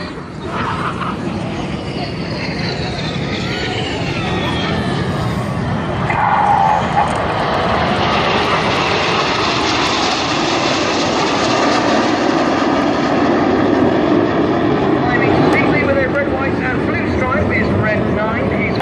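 A loud, steady roar from a low-flying Red Arrows jet at the Southport Airshow fills the whole stretch, building slightly midway and staying dense and continuous, with no pauses.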